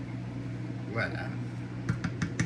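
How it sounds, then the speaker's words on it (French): A kitchen oven signals it has finished preheating with a quick run of four short, bright beeps near the end, heard over a steady low hum and people speaking. "Comme vous avez pu entendre, le four est rendu prêt."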